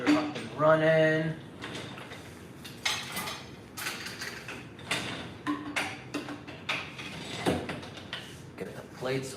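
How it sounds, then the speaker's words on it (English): Plates are loaded into a dishwasher rack: a series of clinks, rattles and sliding clacks in irregular bursts, close by, with some brief speech near the start. "get this dishwasher up and running"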